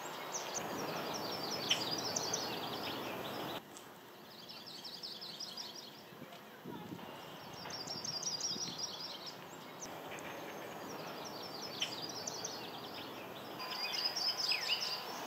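Warbler song sounds in repeated high buzzy phrases every few seconds, moderately distant, over a steady low outdoor rumble that resembles passing rail traffic.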